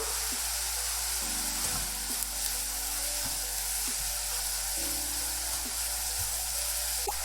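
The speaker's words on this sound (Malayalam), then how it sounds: "ആവശ്യത്തിന് ഉപ്പ് ചേർത്ത് ഉള്ളി നന്നായിട്ട് സോട്ടേ ചെയ്ത് എടുക്കണം" Onions with salt sauté in a pan for jeera chicken, a steady close sizzle and crackle with occasional stirring scrapes and clinks throughout.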